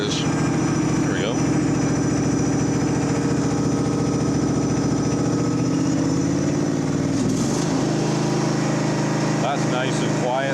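Massey Ferguson (Simplicity) riding mower engine running after an engine swap, a steady close idle with a smooth even drone that shifts slightly in pitch near the end, with a voice talking over it.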